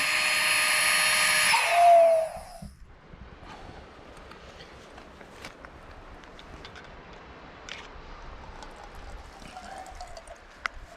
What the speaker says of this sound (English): So that is the water coming off the land that we're going to make the tea out of